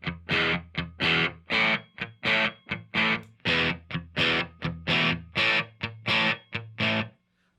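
Distorted electric guitar through an open-back speaker cabinet, playing a fast, steady run of about fifteen chopped chord stabs with a bright, loud attack on each and no voice.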